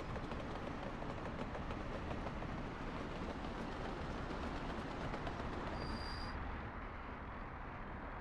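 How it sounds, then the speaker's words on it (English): Train hauling coal in the video game Workers and Resources: Soviet Republic, a continuous loud rolling rumble of wagons with faint rhythmic clatter throughout and a brief high squeal near the end, no talk. "120 tons of coal going on the train."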